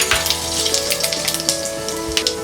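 Cumin seeds sizzling in hot oil in a kadai, a loud, close, crackling fry with dense popping and hissing that runs throughout, with no talk over it.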